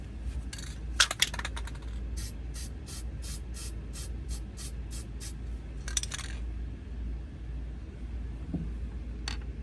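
Spray paint going on in a light coat over action figure parts, heard as a run of short hissing bursts in a regular rhythm with a few clicks and a rattle near the start, set against a low steady room hum.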